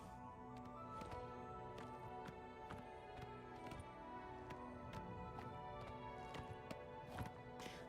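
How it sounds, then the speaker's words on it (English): Horse hooves clip-clopping in Oblivion Remastered, a quick, even run of light hoof taps at moderate distance over a soft, steady game backdrop. "Yes, as I said, I've got a horse."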